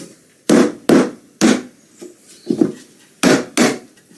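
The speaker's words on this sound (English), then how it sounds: "flip that over, then we can just hammer that one down." Hammer blows knocking a frame down onto a National beehive super built from reclaimed timber: seven sharp wooden knocks, mostly in close pairs with two softer taps in the middle, loud and near with no talk.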